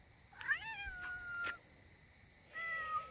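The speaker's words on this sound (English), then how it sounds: "What are you doing, cat?" A cat meows several times, with rising, drawn-out calls followed by a shorter meow after a pause, fairly close and clear over a quiet outdoor background.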